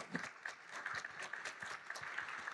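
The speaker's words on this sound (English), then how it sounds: "Let's give them a round of applause." An audience at a panel discussion applauds, a steady, faint wash of many hands clapping at a distance for a couple of seconds.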